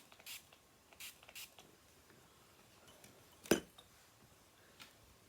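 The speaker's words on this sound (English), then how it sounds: "I'm going to begin by giving the paper a little bit of a spritz" A spray bottle spritzes water onto watercolor paper before painting, several short, soft hissing bursts spaced apart in a quiet room, one slightly louder than the rest.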